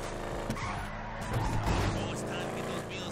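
A car in Grand Theft Auto 5 drives with a revving engine and tires squealing in skids, the game audio busy throughout, with talking over it.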